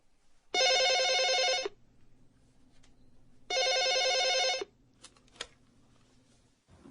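A telephone bell rings in two long bursts about a second apart, loud and clear against a quiet room with a faint low hum and a few small clicks afterward.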